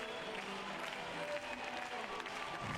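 A large crowd in the Carioca arena at the Rio 2016 Paralympic wheelchair fencing keeps up a continuous wash of cheering, clapping and singing as the medal-winning teams leave the floor, heard at a distance.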